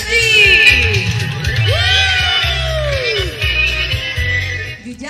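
A crowd at a live stage show cheers and whoops loudly, with shouting voices and a lively, sustained roar over a thumping low beat, building and holding across the whole stretch before dropping off at the end.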